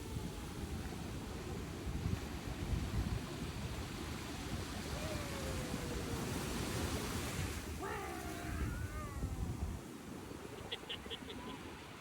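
Ocean waves wash steadily onto the beach at Macaé in a broad, continuous rush with some wind buffeting the microphone, and a few faint voices come through in the background.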